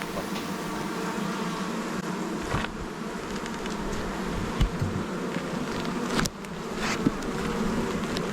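Bees buzzing around a top bar hive during an inspection, a continuous close drone with occasional louder passes near the listener.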